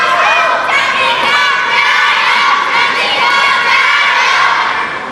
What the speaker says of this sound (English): the fans are awake and cheering for him